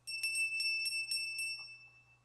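A bright bell rings in a quick series of about six evenly spaced strikes, clear and close, then fades out.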